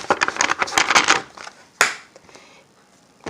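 A deck of tarot cards is shuffled in a rapid run of crisp, close riffling clicks, followed by a single sharp snap as the cards are squared, then quiet.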